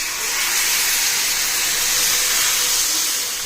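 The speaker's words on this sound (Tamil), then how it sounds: "இப்போ தோசை ஊற்றிடலாம்" Sabudana dosa batter spreads across a hot pan and sizzles, giving a steady, loud, broad hiss that holds evenly without a break.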